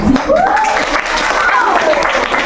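A sixth-grade class in an Indonesian classroom claps together in steady, dense applause for about two seconds, with a voice speaking faintly over it.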